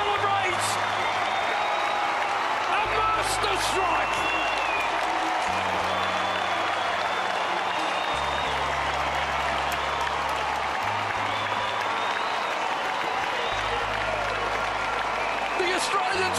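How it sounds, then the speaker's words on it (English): A big stadium crowd roars and applauds nonstop after Australia's winning goal in the field hockey Champions Trophy final, a steady wall of cheering and clapping with occasional whoops, while an excited commentator talks over it. "the crowd explodes"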